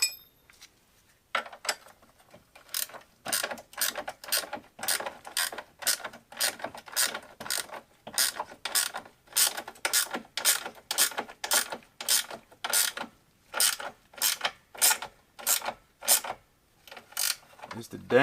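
A wrench ratchets on a front A-arm bolt of a Polaris Sportsman ATV during a bushing replacement: close, crisp bursts of rapid clicking strokes repeat steadily for about fifteen seconds, with no talking.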